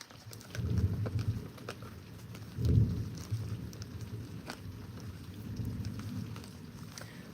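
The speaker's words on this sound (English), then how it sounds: "The thunder didn't start until I started the live" A Florida thunderstorm, with steady rain pattering on a surface and low thunder rumbles swelling in and out, the strongest roll near the middle, with no talking.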